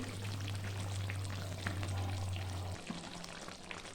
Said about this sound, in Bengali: আলুগুলো মাংসের সঙ্গে দিয়ে নিচ্ছি